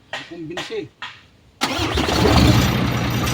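Mitsubishi 6M61 diesel engine converted to a mechanical injection pump cranks briefly and catches, then settles into a loud, steady rumbling idle right after a few words from a man nearby.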